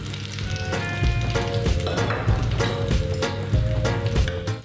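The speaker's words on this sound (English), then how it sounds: "when you add those potatoes, you really want to be hearing that sizzle" Parboiled Maris Piper potatoes sizzle and crackle steadily in hot olive oil, a dense, close frying hiss with bursts of popping throughout and no talking.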